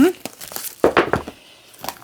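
Clear plastic packaging crinkles and crackles in several short, close bursts, with a voice briefly audible.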